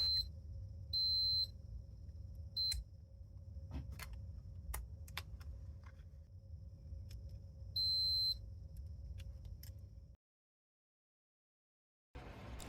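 A multimeter beeps while testing an electrical part from a Moto Guzzi Le Mans 3 motorcycle. Short, high electronic beeps come in separate bursts over a low background hum, then the sound cuts out briefly.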